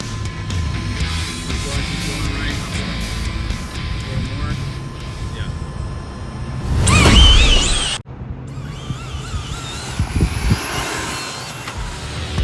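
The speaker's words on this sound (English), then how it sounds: "he's wheeling down to half track, lets off a little bit to settle the front tires" No-prep RC drag car launching and running down the track, its high whine building to a loud close pass and then dropping off sharply, with crowd noise and an announcer talking throughout.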